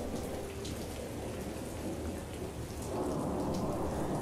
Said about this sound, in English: It was almost as dark as night when the big fat raindrops began to fall.